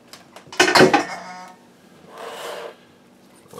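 Meatloaf mix is dropped into a pan, giving a loud clatter and scrape of the metal pan. A softer rustling shuffle follows as the meat is arranged.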